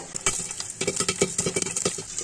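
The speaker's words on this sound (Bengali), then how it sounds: "ভুট্টাগুলো কিন্তু ফুটতে শুরু করেছে, দেখতে পাচ্ছেন।" Corn kernels popping into popcorn in a pan covered with a glass lid, a quick irregular patter of sharp close pops over a faint sizzle, with no voices.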